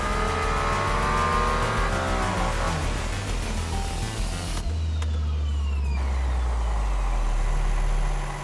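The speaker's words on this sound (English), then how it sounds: "So the powertrain just stopped, the engine stopped, and it then just restarted itself." Mercedes-AMG One hybrid hypercar powertrain cutting out and firing back up, a loud continuous engine drone that drops away partway and returns with a deep low rumble and rising whine, no talk.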